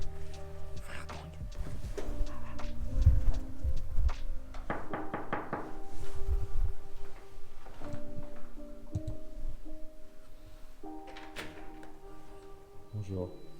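A short burst of knocking on a neighbour's door inside a house, several quick close raps, with people talking and moving about around it.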